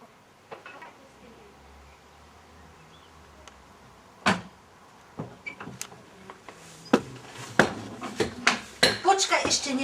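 Cutlery and dishes clink during a meal of fried food and rice, with sparse taps early and then a quickening run of sharp metallic clicks and scrapes toward the end, close by, with people talking softly in the background.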